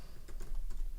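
A computer keyboard is typed on for about a second: a quick, close run of light, irregular key clicks.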